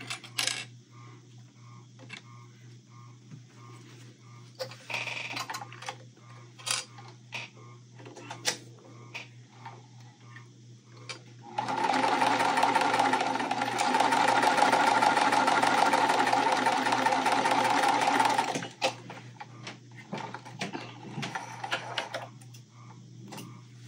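A sewing machine stitches cotton quilt pieces, attaching a triangle to a square block, in one steady loud mechanical whir of about seven seconds, with quieter clicks and handling noises before and after.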